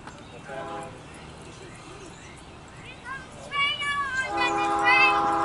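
A loaded CSX autorack freight train rolls past, its low rumble rising as the horn sounds in a couple of loud sustained blasts toward the end, heard from trackside.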